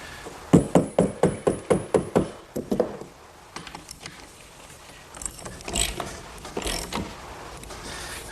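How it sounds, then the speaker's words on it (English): A socket wrench fastening a bolt into wood while building a picnic table, about a dozen quick sharp ratcheting clicks up close, followed by scattered softer knocks and handling noises. "Now I'll just use a socket and fasten it down."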